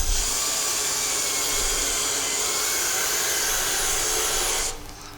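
A CBN grinding wheel sharpens a negative rake scraper: a loud, steady, close grinding whir with constant rubbing texture that drops off abruptly at the end.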